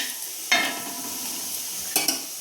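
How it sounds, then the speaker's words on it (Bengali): A pea-stuffed paratha fries in a spoonful of white oil in a pan, giving a soft, steady sizzle that is broken by a few sharp clinks and scrapes as it is turned. "উল্টে দিয়ে কিন্তু আমি 1 পিঠ ভেজে নিচ্ছি।"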